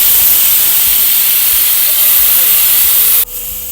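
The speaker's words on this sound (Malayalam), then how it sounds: "നമ്മൾ പയറിന് 10 വിസിൽ വന്നിട്ടുണ്ട്" A pressure cooker cooking green gram releases steam in a loud, continuous whistling hiss that cuts off abruptly near the end, leaving a much quieter background.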